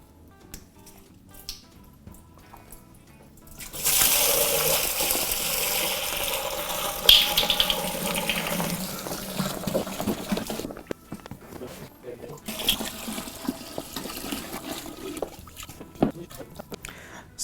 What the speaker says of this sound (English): let's fill our boiler